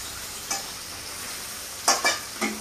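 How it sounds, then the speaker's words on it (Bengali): Three large sliced onions frying in a pan at home, giving a steady soft sizzle with a few sharp stirring scrapes and clatters near the end, close and with no voices. "এবার পেঁয়াজটাকে আমি ভালো করে ভেজে নেব।"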